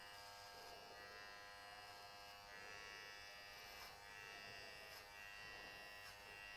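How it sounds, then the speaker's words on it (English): Electric hair clipper cutting a man's hair, a steady close buzz with a dense harmonic whine that swells and dips slightly as the blade is tilted and passed through the hair. "We'll go up a little bit higher, just tilt the clipper out again."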